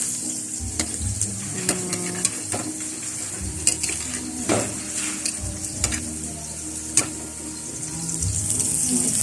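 Food sizzles and fries steadily in a home kitchen while utensils stir and clink against pots and pans, with scattered sharp metallic knocks throughout.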